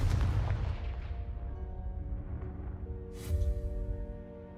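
A Confringo explosive spell in a wizard video game lets off a heavy booming blast up front that rolls into a long decaying rumble, then a second sharp burst lands near the end over lingering low tonal hum.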